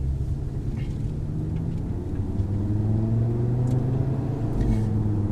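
Engine of a 2018 Audi TT RS, its 2.5-liter five-cylinder giving a steady low rumble with a faint rising drone, heard continuously at close range with no talk.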